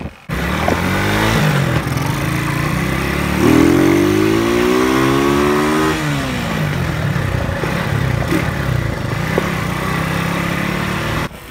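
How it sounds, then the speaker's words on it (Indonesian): A carbureted motorcycle engine, a cafe racer or similar custom bike, revs and accelerates loudly and close, its pitch climbing steadily then dropping back and rising again with a rough, continuous drone. "Ini coba lu dengerin deh suara tarikannya."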